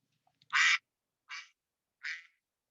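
A duck quacks three times in a row, each call loud, close and clearly spaced about three-quarters of a second apart, with nothing else heard around it.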